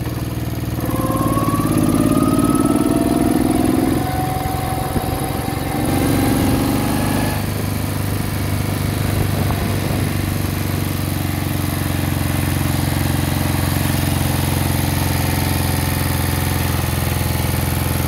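A 1968 Moto Guzzi V7 700 motorcycle with freshly sleeved cylinders idles high and steady, a loud, close, continuous engine drone. A rising whine early on briefly sweeps up and fades.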